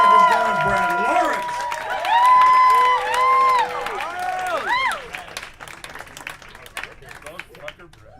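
A comedy club audience claps and cheers at a storytelling set, a dense burst of applause and whoops that fades gradually, with a voice speaking over the start.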